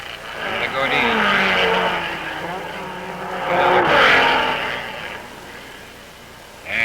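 Gordini race car at the 1955 Monaco Grand Prix: engine roar sustained throughout, swelling as the car passes near, under commentary-style talk.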